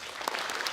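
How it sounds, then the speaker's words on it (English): Applause at a speech contest welcoming a UN official, a brief burst of steady crowd clapping heard mid-flow. "Please welcome him with a round of applause."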